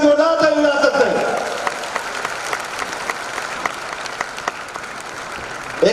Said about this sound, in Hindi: जोरदार ताली बजा सकते हैं